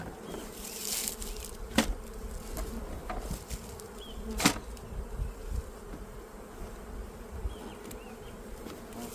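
Honeybees buzz steadily around a hive as a full-size colony is split in spring, a dense close hum with scattered louder passes and soft knocks of frames. No speech.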